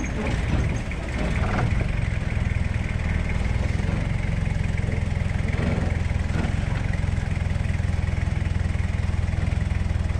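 An early solid-front-axle Toyota Hilux on mud tyres drives off-road, its engine droning steadily and close at a low, even pitch for the whole stretch, with a brief dip near the start.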